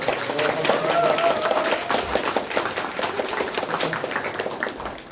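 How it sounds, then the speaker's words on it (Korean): Welcoming applause from an audience at a party members' education session, steady dense clapping that fills the room for several seconds, with a voice faintly audible underneath. "여러분 환영의 박수로 다시 한번 보내주십시오."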